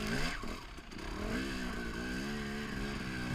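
Two-stroke engine of a 2018 Husqvarna TX 300 dirt bike running steadily and revving with rising, wavering pitch, loud and close throughout with no talk.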